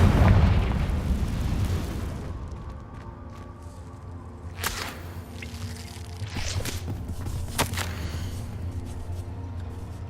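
A Confringo fire spell explodes in Hogwarts Legacy with a loud, deep boom that rolls away slowly, followed by scattered crackling pops and smaller bursts as the blast fades.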